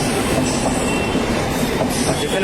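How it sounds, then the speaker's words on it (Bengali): Loud, continuous rumble of a train rolling nearby, with rattling wheels and faint squeals over the steady roar. "এখন আছি স্টেশনে"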